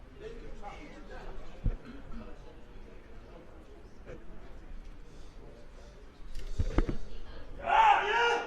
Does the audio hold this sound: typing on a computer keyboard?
no